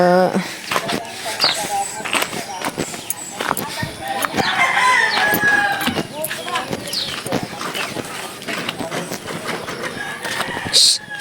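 A rooster crows close by amid lively farmyard clucking and clattering thumps, while people talk over much of it.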